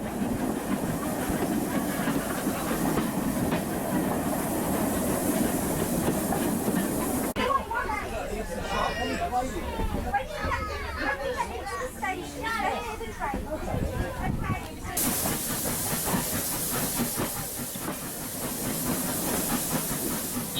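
A steam train at a steam gala rumbles along the rails toward Ludborough with a constant hiss and rhythmic clatter, people talking over it in the middle stretch.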